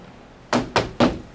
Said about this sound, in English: Here's your knocking indeed.